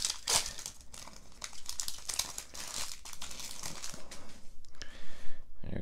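The foil wrapper of a Pokémon Evolving Skies booster pack crinkles and tears as it is opened, making loud, close, continuous crackling with a sharp rip at the start.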